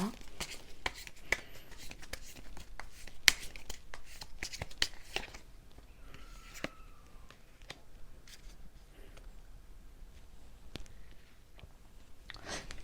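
Tarot cards are handled and laid out for an advice card reading, with quiet, scattered taps, flicks and rustles of card stock, close and soft, some brief talk in between.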